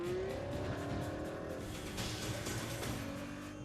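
A Lexus GS accelerates hard and shifts up through an 8-speed transmission, its engine note rising in a continuous loud roar with audible changes in pitch as gears change.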